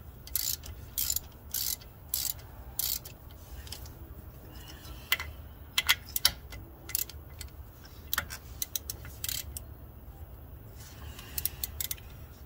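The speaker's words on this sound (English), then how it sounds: "I'm gonna break the nuts first" Ratcheting clicks in short bursts as a wrench breaks loose the wheel nuts on a 2007 Buick Rendezvous during a front bearing job, with a steady low hum underneath and no talk.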